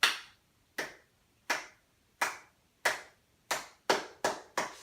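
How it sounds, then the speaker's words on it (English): Nine sharp hand claps ring out alone, close and fairly loud, in a loose rhythm that speeds up toward the end with shorter gaps between the last few. "Clap for that."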